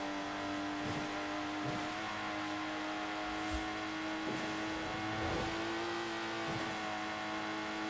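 A Lotus Exige's engine drones steadily in Forza Horizon 4, holding a sustained revving note with small shifts in pitch as the car drives, along with faint road and tire noise and no talking.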